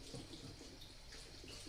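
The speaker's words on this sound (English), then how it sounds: "let me rinse my hands real quick" Running tap water splashing over hands being rinsed at a kitchen sink, a quiet steady wash of water with faint irregular splatter.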